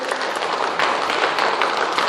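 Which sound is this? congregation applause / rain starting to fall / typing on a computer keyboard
congregation applause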